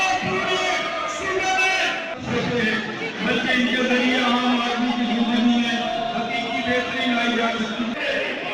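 Opposition uproar in the Punjab Assembly at the start of a budget session: a dense, continuous din of many overlapping shouting voices and chanting, loud and unbroken throughout.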